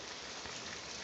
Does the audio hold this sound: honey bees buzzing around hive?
no